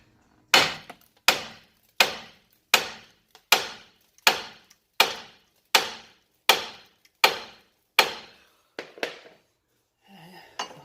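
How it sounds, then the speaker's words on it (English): Sharp, ringing hammer blows on metal as a ball joint is knocked loose on a Toyota Echo/Yaris, about a dozen evenly spaced strikes close by, then a couple of lighter taps and a brief rattle. "we're going to just hammer right there"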